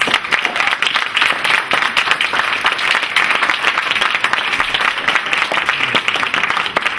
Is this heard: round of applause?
yes